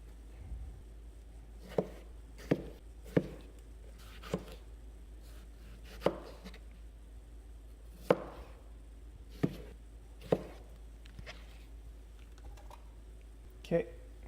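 Sharp knife chopping vegetables on a cutting board for a beanless turkey artichoke chili, about a dozen separate crisp close knocks at an uneven pace over faint background hum.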